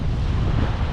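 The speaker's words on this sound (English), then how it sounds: "It's 20 mile an hour westerly wind" A strong westerly wind of about 20 mph blows across sea rocks on the UK coast on a freezing day. A steady, loud, low roar buffets the microphone throughout, and no voices are heard.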